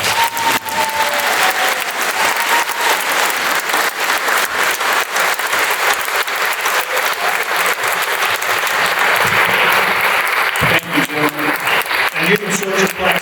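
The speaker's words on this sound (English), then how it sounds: "Please give them another round of applause." Sustained audience applause for police officers at a memorial event, a dense, loud wall of clapping from a large crowd that fades toward the end as voices and other sounds come in.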